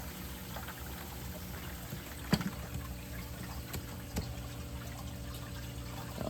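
Water flowing out through a reef aquarium's drain line, a steady low gurgling trickle under a constant mechanical hum, with a couple of sharp clicks along the way.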